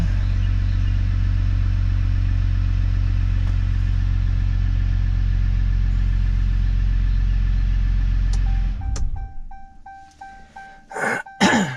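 A 2014 Ram 1500 pickup's engine idles with a loud, steady low rumble for about eight seconds, then cuts off, leaving only faint clicks and brief scraping handling noises nearby.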